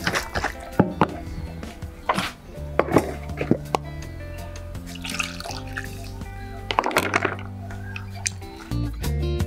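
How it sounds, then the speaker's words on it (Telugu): A spoon stirs tomato paste into rava dosa batter in a bowl, with irregular clinks and scrapes against the dish and wet mixing sounds over steady background music. "కానీ ఈ పేస్ట్ను ఇందులో కలిపేసుకుందాం."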